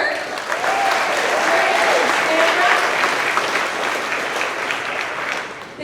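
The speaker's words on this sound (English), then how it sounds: "Thank you for the applause." Steady crowd applause fills a company's monthly employee celebration, honoring a one-year work anniversary, with faint voices and a brief cheer or whistle mixed in, holding constant before tapering slightly at the end.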